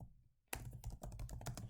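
Rapid keystrokes on a computer keyboard as a command is typed at a terminal, starting abruptly after a brief silence and continuing in quick, close, crisp clicks.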